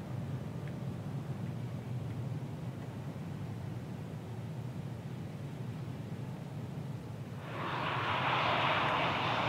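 A United Boeing 737-900 landing on runway 9 at Miami International in Microsoft Flight Simulator 2020: a steady, distant engine drone that swells into a louder, rushing roar near the end.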